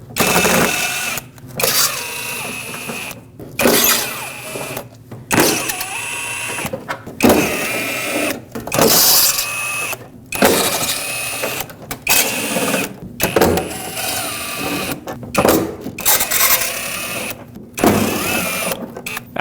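A powered driver with a T15 Torx bit whirs in repeated bursts of a second or two, loud and close, removing fender liner fasteners on a 2015-2020 GMC Yukon, with brief gaps between each screw.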